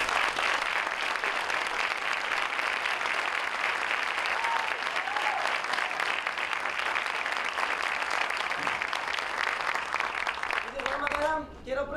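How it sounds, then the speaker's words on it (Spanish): A theatre audience gives sustained, dense applause for about twelve seconds. A few voices are heard briefly near the end as the clapping fades. "Por favor, un fuerte aplauso."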